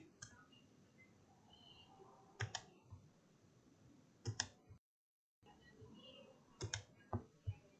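Sparse mouse clicks from drawing with the Bezier tool in CorelDRAW, arriving in quick pairs and small clusters at a near, quiet level over faint room hiss, with a brief dropout midway.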